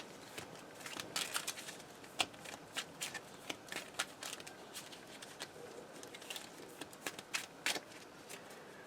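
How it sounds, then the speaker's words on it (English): A deck of Transformers trading cards is shuffled by hand, giving rapid crisp riffling bursts and flicks close up, irregular and fairly quiet, with no talk over them. "we have to shuffle the deck to get the rest of the cards to flip"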